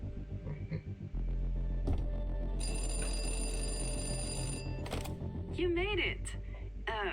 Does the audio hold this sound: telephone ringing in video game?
yes